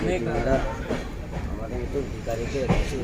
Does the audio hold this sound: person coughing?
no